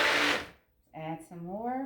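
A blender pulses briefly through apple sage cold process soap batter, a loud whirring burst that cuts off, followed by someone speaking nearby.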